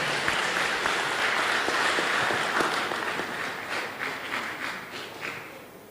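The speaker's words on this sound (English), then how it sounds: "please give big round and applause for all our leading speaker" A conference audience applauds steadily for several seconds at the close of an agricultural and food science event, the clapping dense at first and then thinning and fading.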